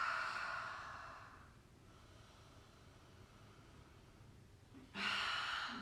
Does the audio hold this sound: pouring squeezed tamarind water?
no